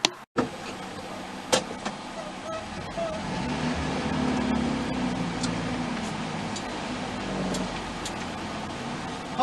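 A Vauxhall Victor FB driving on a Cornish road, with a steady interior drone of engine and road noise after a door-like clunk at the start, with occasional clicks and rattles.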